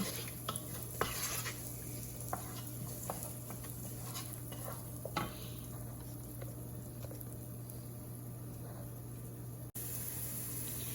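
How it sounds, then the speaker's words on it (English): Onions are stirred as they brown in a pan, with a quiet, steady sizzle under intermittent scraping and light clinks of a utensil against the pan, close and fairly soft with no one speaking. "mix these little guys over here till our onion gets nice and brown"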